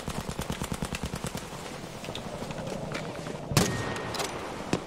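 Rapid automatic gunfire from a Battlefield 5 match on the Fjell map, a steady stream of close shots for the first couple of seconds, then a loud sharp blast and continuing scattered battle noise.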